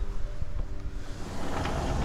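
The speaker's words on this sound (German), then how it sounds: "Wir haben über 30 Knoten Wind." Strong wind gusting above 30 knots on an exposed spot, buffeting the microphone with a dense, rushing roar that swells in bursts, loud and continuous, with no voices.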